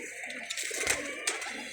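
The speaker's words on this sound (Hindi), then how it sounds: "लो जी ये लाखा कबूतर देखें आप" Lakha pigeons kept by a pigeon fancier cooing softly up close, with short fluttering calls and a steady background hum.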